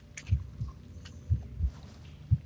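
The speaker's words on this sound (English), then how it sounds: "You hear a heartbeat." Heartbeat sound effect in a Dungeons and Dragons session, deep thumping lub-dub pulses repeating at a slow, steady pace, close and prominent over a quiet background.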